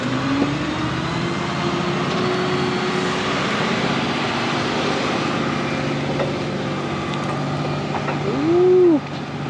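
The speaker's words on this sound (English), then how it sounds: "now the tow truck's trying to reposition, and he's kind of getting stuck" A tow truck's engine drones continuously at a worksite while it tries to reposition and gets stuck in quicksand beside a lost concrete load, with a rising whine and brief engine surge near the end.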